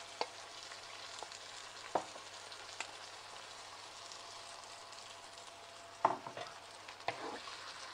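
Prawns frying in a pan with pepper masala give a faint, steady sizzle, broken by a few sharp clinks and scrapes of stirring, with no talking.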